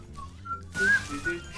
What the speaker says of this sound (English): he starts whistling the freaking Andy Griffith show